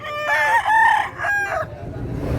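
A rooster at a Cebu poultry yard crows once close by, a loud drawn-out cock-a-doodle call in several rising and falling segments, then fades into quiet background noise.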